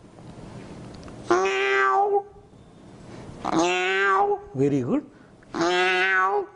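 A person mimics a cat with three drawn-out, whiny meows, separated by short pauses, with a brief spoken remark between the second and third.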